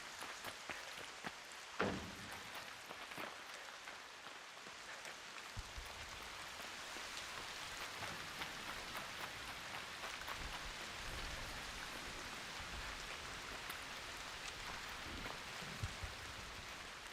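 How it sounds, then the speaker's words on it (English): Steady rain patters continuously in a Godot-made video game, a dense even hiss of drops with a few louder splashes, fairly quiet and with no voices. "It's raining."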